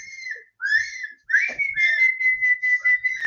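A person whistles to call a cat, giving several sustained, sliding tones with short breaks between them, close and clear with no talking.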